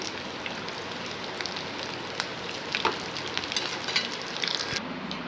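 Samosas frying in hot oil while being stirred, a steady crackling sizzle with soft scraping stirs and occasional bright pops, close and alone with no talk.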